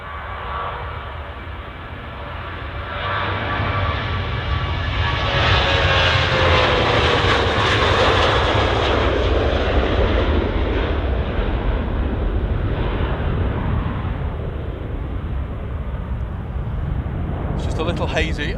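A Ryanair jet airliner departs Manchester Airport bound for Warsaw, its engines building to a loud, sustained roar that peaks as it passes and then holds steady, with wind buffeting the microphone throughout.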